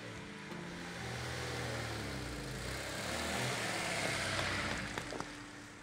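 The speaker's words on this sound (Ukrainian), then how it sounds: "Машина зятя завелася." A car engine turns over and runs, its low hum rising in a gentle rev and then settling, heard quietly and at a moderate distance.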